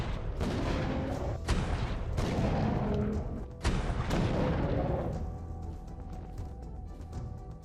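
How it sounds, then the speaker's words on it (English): Cannonballs fired at a Stegotetrabelodon in ARK Survival Ascended, a run of loud, booming blasts that follow one another in quick succession, each with a rumbling tail, and then fade into a lower, ongoing din. "Shoot it with the cannonballs until it falls asleep."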